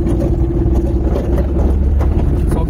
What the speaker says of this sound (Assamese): এনেকুৱা আৱাজ দিছে গাড়ীখনৰ